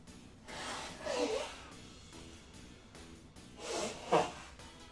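Someone blows their nose in two short, breathy bursts about three seconds apart, the second ending in a sharper honk, quiet and close with no talking.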